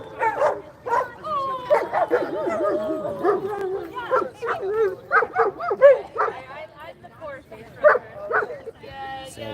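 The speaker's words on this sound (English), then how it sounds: "So we got all these dogs here." Several dogs at a dog park bark, yip and whimper in scattered bursts throughout, fairly close, while people talk over them.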